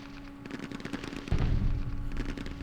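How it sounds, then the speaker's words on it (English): Artillery fire in the Campaign Series Middle East war game: a steady patter of rumbling impacts and bursts, growing heavier and louder with a deep boom about halfway through, then continuing at close range. "It's very good American artillery"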